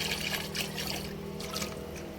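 Water pours steadily into a bucket in a home garden, a continuous splashing trickle with no break, moderately close.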